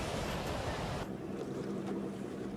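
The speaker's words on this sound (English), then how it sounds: "Sometimes the boats will flip over on them because the surf gets so big." Big ocean surf crashes nearby, a loud broad roar of breaking waves that eases after about a second into a softer wash with wind.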